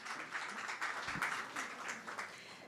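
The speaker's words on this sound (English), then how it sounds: "this round of applause goes to you" A conference audience at a forum on digital workforce reskilling breaks into a short, steady round of applause, moderately faint, with no talking over it.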